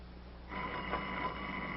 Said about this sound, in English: Isn't that your ring? I don't know. I never paid no attention. Of course it was. Go on, answer the phone.